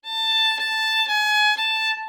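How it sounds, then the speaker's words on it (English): Solo violin played up close, bowed with the contact point near the bridge, with four or five back-and-forth bow strokes on a single ringing note. The tone is bright and full. "just by putting the contact point a little bit closer to the bridge"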